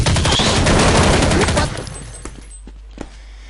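AK rifle gunfire in Counter-Strike 1.6, a loud dense burst of rapid automatic shots for about a second and a half, then trailing off into a few scattered single shots.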